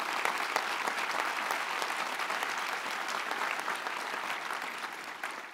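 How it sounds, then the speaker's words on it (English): A large audience claps steadily and continuously, a dense wash of applause that holds at an even level throughout. "let's give him a round of applause"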